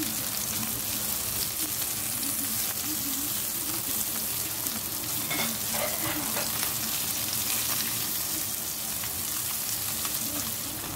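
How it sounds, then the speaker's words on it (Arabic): Sliced aubergines fry in a pan for a stuffed aubergine dish, giving a continuous, dense oily sizzle close by with a few stirring rustles. "دركا نجي نقليهم شويه."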